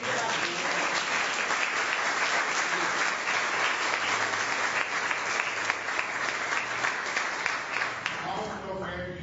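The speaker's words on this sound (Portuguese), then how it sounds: "Aplauda esse Deus maravilhoso." A church audience applauds in sustained, dense clapping that fills the room evenly, then fades at the end as a voice begins to speak.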